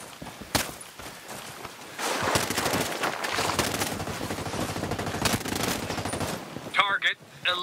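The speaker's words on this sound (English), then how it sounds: "Hostiles are shooting." Hostile gunfire in Ghost Recon Breakpoint, with sustained bursts of automatic rifle fire crackling continuously through the scene, some shots sharper and closer, others a steady distant rattle, and a few brief effect blips near the end.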